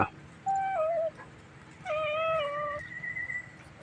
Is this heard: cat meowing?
yes